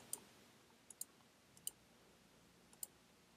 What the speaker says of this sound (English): click that plus sign